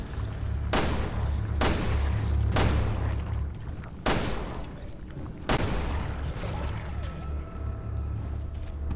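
Five loud, widely spaced gunshots ring out in Resident Evil Revelations 2, each a sharp blast with a decaying tail over a low rumbling background, the shots coming at uneven intervals.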